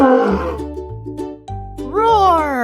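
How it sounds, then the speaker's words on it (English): A lion's roar is voiced by a person over a children's animal-sounds music bed, rising in a long, loud, drawn-out growl near the end of the steady backing tune. "Let's hear how the lion sounds."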